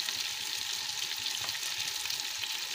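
Food frying and roasting in a pan on the stove, a steady bright sizzle with faint stirring scrapes underneath, close and continuous with no talking.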